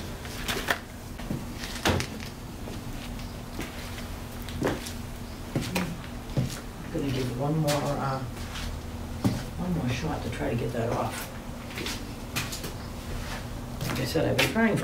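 A wooden desk drawer being pulled and worked loose during a furniture flip, with repeated knocks, scrapes and thumps scattered through the clip, a steady hum underneath and a person talking throughout.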